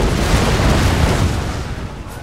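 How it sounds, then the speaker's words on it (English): Hand mortar shells exploding in Total War Shogun 2, a dense, continuous rumble of booming blasts with heavy low-end energy that stays loud throughout the short stretch. "let's watch the hand mortars come down on the Pain of Fury"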